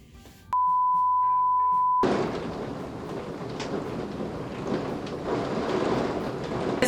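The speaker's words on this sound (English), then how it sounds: "It's raining very hard." Heavy rain pours down as a loud, dense, steady hiss that begins abruptly after a short electronic beep tone and continues unbroken to the end.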